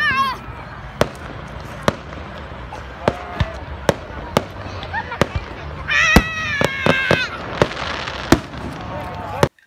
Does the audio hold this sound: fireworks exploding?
yes